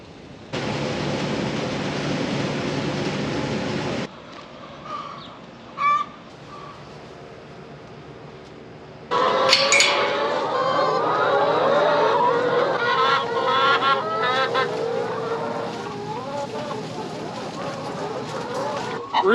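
Farmyard poultry, roosters and laying hens, calling and squawking in loud bursts after a quieter stretch, with a steady background hiss and occasional sharp cries.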